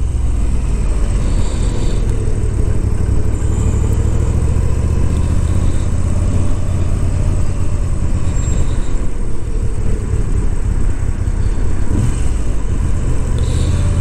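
A 2022 Moto Guzzi V7 850 Special is ridden on the road, its engine a steady low rumble mixed with wind noise, loud and continuous from a rider's point of view, with no talk.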